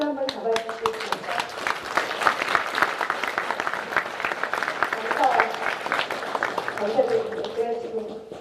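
An audience at a smart city presentation in Seongnam claps steadily, a dense patter of applause that swells and fades slightly, with a voice speaking briefly near the start and end.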